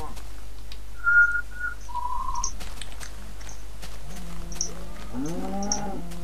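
A Minecraft cow lets out a low drawn-out moo near the end, preceded by a couple of short whistle-like tones in a quiet game scene.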